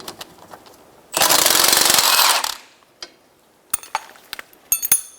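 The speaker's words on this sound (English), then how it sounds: "I'm going to use a 14mm wrench to hold the bolt on the back, and a 14mm socket to remove this nut." A 14mm socket and wrench working the nut off a rear sway bar link on a 2012-2016 Subaru Impreza, with a loud, steady burst of power-driven rattling lasting over a second, then scattered light metallic clinks and taps up close.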